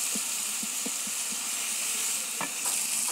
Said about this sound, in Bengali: এখন আমি এটা কষিয়ে নেব।